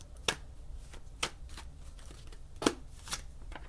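Tarot cards are shuffled in quiet, separate bursts: about five crisp riffling snaps spaced irregularly, close by, over near silence.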